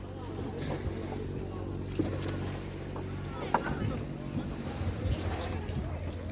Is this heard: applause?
no